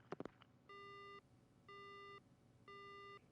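A phone line goes dead in the horror video game Death Mark, leaving three evenly spaced electronic tones after a few brief clicks, each tone steady and lasting about half a second.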